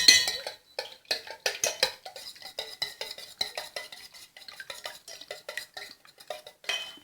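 Beaten eggs with vanilla essence are whisked with a utensil in a bowl for a rava pudding, making rapid, rhythmic clinks and taps that carry on close and clear.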